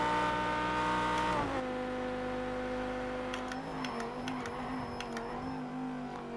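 Naturally aspirated race car engine in the racing game Project Cars 2, held at a steady high drone that drops in pitch with a gear change, then settles and climbs again with faint ticking sounds, loud and alone.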